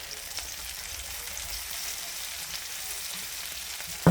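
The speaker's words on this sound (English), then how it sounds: "I'm going to go ahead and put 1 teaspoon of minced garlic in. And stir that around." Minced garlic sizzles in a hot pan with browning meat, giving a steady, moderate frying hiss with faint stirring and a brief clatter at the end.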